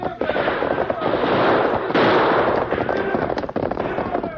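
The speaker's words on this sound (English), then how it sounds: "Use your guns, Tonto." Gunfire in an old radio western drama, a dense run of loud close shots and bangs over a band-limited, crackly broadcast recording, with a voice mixed under the din.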